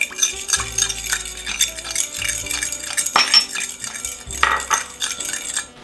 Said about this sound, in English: And then I'll just stir this up.